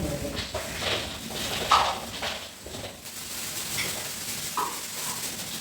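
Chicken boils in a pot with a bubbling, seething churn, broken by a few soft knocks and stirring sounds from the pot.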